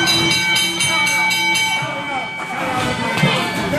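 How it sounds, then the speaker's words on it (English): A ring bell rings out in quick repeated strikes at an independent ASWF wrestling match ending by countout, its clanging tones ringing on over crowd noise and voices. "Hey, ring the bell."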